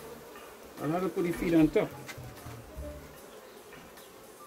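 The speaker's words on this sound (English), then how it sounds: "So we have the bees there." Honey bees hum around an open hive at close range, a steady buzz that swells briefly while someone speaks over it.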